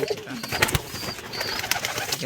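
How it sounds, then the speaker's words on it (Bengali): Giribaz pigeons cooing at close range in a calm village yard among ducks and chickens, a few soft low coos and rustles over a steady hum of rural background noise. "এই কবুতরটি মূলত গিরিবাজ কবুতর এটির বাচ্চা রয়েছে দুটো"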